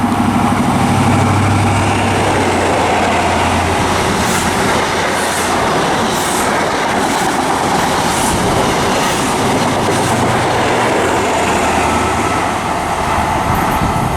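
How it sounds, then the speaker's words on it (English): An HST high-speed train on the Great Western Main Line between Reading and Bedwyn, bound for Plymouth, roars past close by. Its loud, sustained rush carries a rumbling engine note and rhythmic wheel clatter across the rails. "let's film a HST go past"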